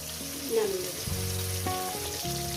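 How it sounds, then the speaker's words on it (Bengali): Fish fry in hot oil during home cooking, giving a steady, close sizzle that runs throughout, with soft background music. "মাছগুলো আমার ভাজা হয়ে গেছে"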